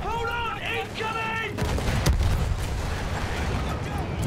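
In the Battlefield 1 campaign chapter Mud and Blood, a voice speaks briefly before incoming artillery hits in a loud burst, then rolls into a sustained heavy rumble of explosions and gunfire that fills the rest of the moment.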